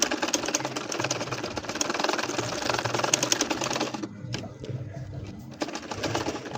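A sewing machine stitches a baby nakshi kantha quilt in a close, steady whir that runs continuously, dips briefly in the middle, then resumes at full pace.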